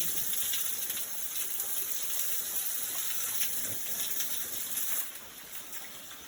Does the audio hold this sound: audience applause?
no